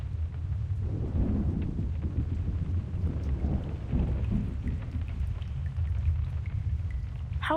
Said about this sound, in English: It's the rain! It's raining outside!